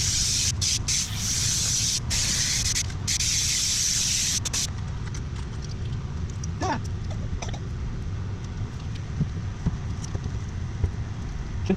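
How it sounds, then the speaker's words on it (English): A loud, steady spray hiss from an aerosol can of spray glue, with brief breaks in the first few seconds before it continues as a softer rushing sound. "so now we are ready for spraying some glue."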